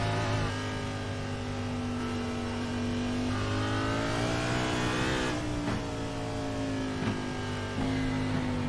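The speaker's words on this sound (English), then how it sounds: "You hear him using up all the RPMs he can." A race car at the Charlotte Roval road course revs hard, its engine note climbing and dipping through the gears in a loud, continuous snarl, close and without voices.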